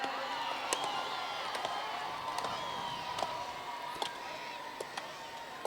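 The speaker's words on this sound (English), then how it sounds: "You can cheer them along now." Spectators cheer and whoop at a men's international woodchopping and sawing relay at the Sydney Royal show, a steady crowd din with sharp percussive axe strikes punctuating it about every second, while an announcer talks over it.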